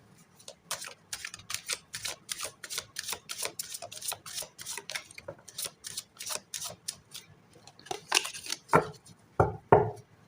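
A deck of tarot cards being shuffled by hand, a quick run of crisp riffling snaps in steady rhythm, close and clear, ending with a few louder slaps as the deck is squared.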